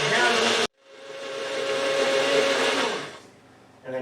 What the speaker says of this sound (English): Put it in a blender.